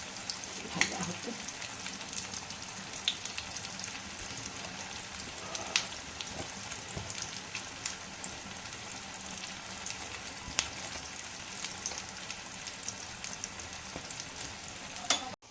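Fish roe bhujia frying in a pan gives a steady, dense sizzle and crackle that runs unbroken throughout, with occasional sharper pops and no voices.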